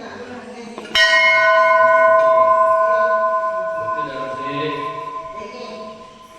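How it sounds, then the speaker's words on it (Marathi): A large metal temple bell is struck once, loud and close, then rings with a long, sustained metallic tone that slowly fades, with faint voices in the background. "ही बघा एवढी मोठी घंटा आहे."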